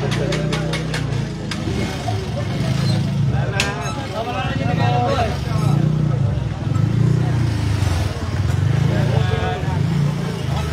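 A motorcycle being moved out of a crowded street, its engine idling and puttering steadily nearby, while people talk over it throughout.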